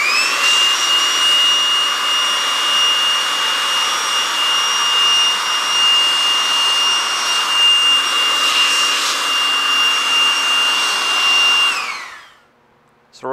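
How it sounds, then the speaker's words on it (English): A handheld air blower blasts tack solution and moisture out from under paint protection film edges on a car, a loud steady whooshing roar running continuously for about twelve seconds before cutting off abruptly. "I'm gonna use an air dryer to blow all the moisture out"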